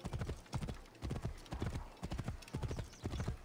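Galloping horse hooves in Assassin's Creed Origins, a steady rhythmic clip-clop pattern of repeated hoof-beat clusters, close and fairly loud, with no talking over it.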